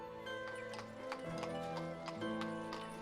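Horse hooves clip-clop steadily in the 1700s city-building game Ostriv, an even, fairly faint rhythm of hoofbeats over a soft musical background with no talking.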